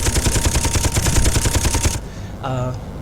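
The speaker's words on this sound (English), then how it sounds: "this is how the missiles fire" A Meteor fighter Mk XI in a video game launches missiles in a loud, rapid stream of bursts that stops abruptly, followed by a short mechanical whir.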